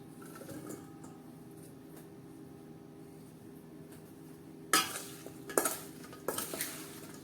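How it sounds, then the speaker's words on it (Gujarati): Amla and green chilli pickle being stirred together with spice mix, quiet at first, then close bursts of scraping and clinking from the utensil against the container in the final seconds. "મરચાં અને આમળા મિક્સ કર્યા પછી આપણે સારી રીતે મસાલાની સાથે ચલાવી લઈએ"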